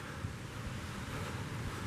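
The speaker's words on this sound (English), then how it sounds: "this is the slipway for the reservoir down here, and I can hear the water roaring from here" Steady rushing roar of water pouring down a reservoir slipway in woods at night, a broad continuous wash heard from some distance with light wind buffeting the microphone.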